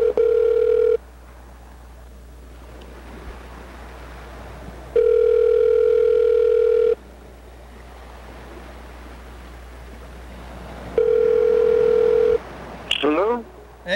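Telephone ringback tone heard while calling someone back, repeating in steady bursts of about two seconds separated by hissy line noise, with a brief rustle near the end.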